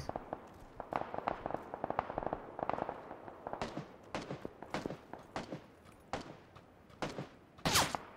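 Rapid cracking gunshots fill a sniper fight in PlayerUnknown's Battlegrounds, with many sharp reports scattered irregularly throughout and a louder, closer shot near the end.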